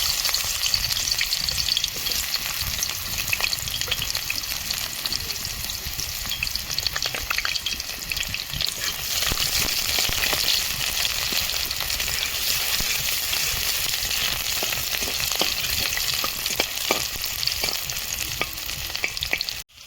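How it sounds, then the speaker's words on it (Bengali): Chopped onion sizzles and fries steadily in a pan, a continuous loud crackling hiss with occasional stirring scrapes and no talk. "এখন আমি পেঁয়াজ কুচিটা দেবো।"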